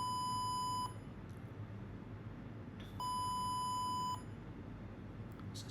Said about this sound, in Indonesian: coba kita simulasikan jika suhu kurang dari 20, nah, maka buzzer akan berbunyi